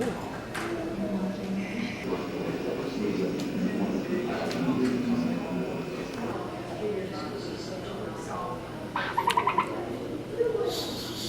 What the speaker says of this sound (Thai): เสียงเรียนนกร้องที่พิพิธภัณฑ์